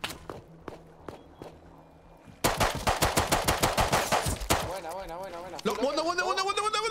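Rapid bursts of Rust video game gunfire, a few sharp shots then a fast rattling volley, mixed with footsteps and wobbling electronic effects.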